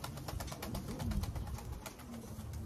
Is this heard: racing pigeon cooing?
yes